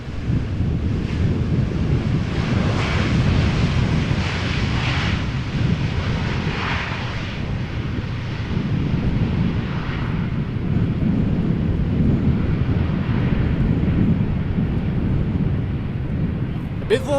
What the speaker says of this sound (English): A bit wobbly, but a good landing nonetheless.